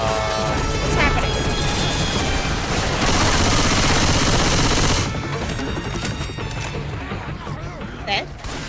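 Loud, dense video-game gunfire and crashing impacts fill the first five seconds, then thin out into scattered thuds and quieter game noise.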